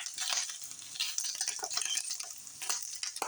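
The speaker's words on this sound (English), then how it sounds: "I'll let that turkey bacon cook like that for a little while" Turkey bacon frying in a pan, irregular pops and spits over a soft hiss, close by, with no talking.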